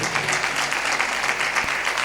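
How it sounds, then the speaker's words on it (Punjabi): A congregation at a sermon claps loudly together, a dense, steady burst of many hands applauding close by for about two seconds, with a single dull thump near the end. "ਤਾਲੀ ਮਾਰੀਏ ਜ਼ੋਰ ਤੇ"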